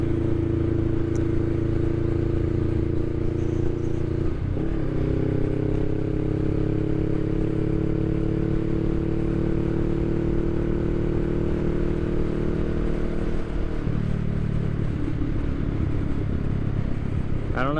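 A 2023 Honda Rebel 500 cruiser motorcycle engine drones steadily and loudly while riding, its pitch holding mostly even with a couple of brief dips as the rider shifts.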